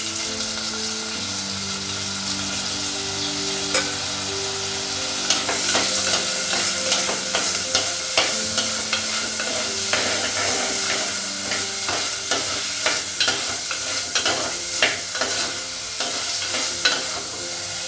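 Chopped tomato sautéing in a hot pan gives a steady close sizzle, with regular scraping and clacking strokes of a spoon stirring it throughout; no voices.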